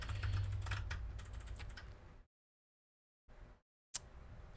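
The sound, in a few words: typing on a computer keyboard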